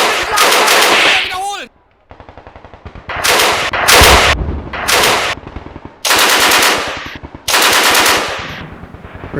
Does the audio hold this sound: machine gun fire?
yes